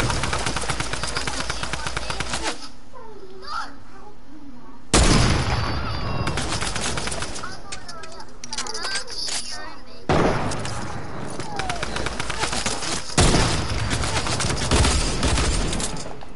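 Video-game gunfire while shooting at bases: loud, close bursts of rapid automatic fire in several long volleys, separated by brief pauses, with occasional sharper cracks and shattering layered in.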